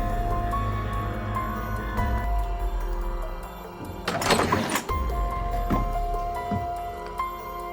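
A door opens with a short rattling burst of latch and movement, close by, amid a steady low background hum.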